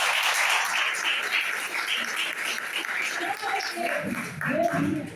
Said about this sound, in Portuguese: desocupa as suas mãos e aplauda o Rei da Glória